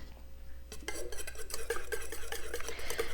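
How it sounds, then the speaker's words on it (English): Pumpkin spice custard mixture with cinnamon, vanilla paste and a pinch of salt being whisked in a bowl, quick rhythmic scraping strokes starting after a quiet moment, soft and close with no talking. "Add your pinch of salt and whisk it together."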